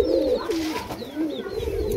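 Pigeons in a loft give steady, soft, throaty cooing that overlaps without pause, close and fairly loud, with no voices over it.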